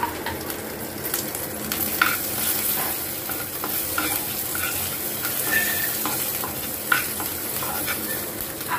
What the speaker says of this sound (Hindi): तो ये तेल हमारा लगभग लगभग गर्म हो रहा है, तो हम इसमें अब थोड़ा सा जीरा ऐड करते हैं।